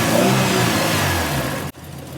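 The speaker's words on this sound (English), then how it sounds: "If I rev it, it does go up." A Ford Escort Mk1 engine revs steadily and loudly close by for about two seconds, then cuts sharply back to a lower idle hum.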